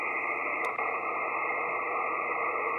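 Steady hiss and static from a Yaesu FT-991A radio receiver overloading its front end, a dense band of noise with a faint tone running through it, continuous and fairly loud.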